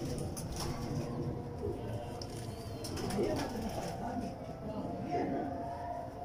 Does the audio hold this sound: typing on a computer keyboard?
no